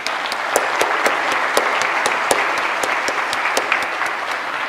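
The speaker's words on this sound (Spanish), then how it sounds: "démosle un aplauso, por favor." Sustained applause from a conference audience after a plenary lecture, dense steady clapping with sharper individual claps standing out, loud and continuous with no talking.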